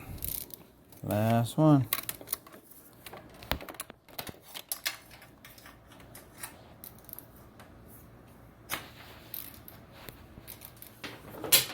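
Ratchet clicking in short bursts while the last exhaust flange bolts come off a 2012 BMW S1000RR, close and fairly quiet, with a brief spoken remark early on.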